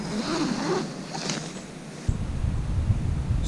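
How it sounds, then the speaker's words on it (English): Wind gusts buffet a microphone in stormy autumn weather on the Norfolk coast, a steady breathy rush that turns into heavier low rumbling bursts partway through. "Still very windy."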